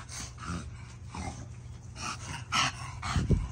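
Dogs, one of them a French Bulldog, growl and snort while fighting over a ball: rough, close rumbling growls with bursts of heavy breathing, swelling louder toward the end.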